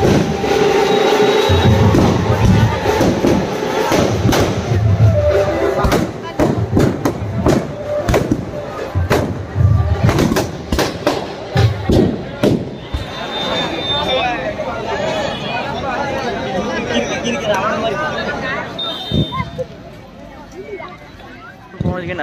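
Loud, sharp fireworks bangs crack in irregular bursts amid a noisy crowd and chatter at a Dussehra Ravan effigy burning in Gandai, then fade to a busy background murmur.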